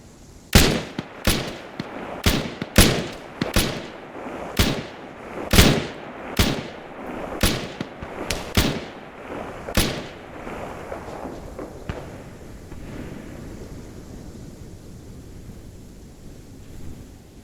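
Gunfire in a video game set in a snowy town, with about a dozen loud, booming shots spaced roughly a second apart, each followed by a rolling echo, then a fading rumble of distant noise.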